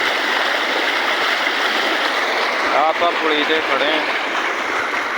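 Heavy-rain floodwater rushes through a culvert in a loud, steady roar that fills the whole stretch, with someone speaking briefly over it partway through.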